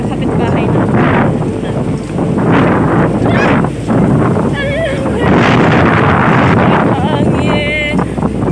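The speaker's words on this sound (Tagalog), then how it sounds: "Hangin." Strong wind from Super Typhoon Rolly buffets the microphone in loud, continuous gusts over a storm-damaged neighbourhood, with people talking underneath.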